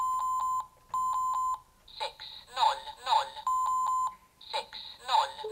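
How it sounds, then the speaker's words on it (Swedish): A talking alarm clock sounds repeated bursts of loud, bright beeping that alternate with its own synthetic voice, close and clear, the beeps and speech trading off in a regular pattern. "Talande väckarklocka."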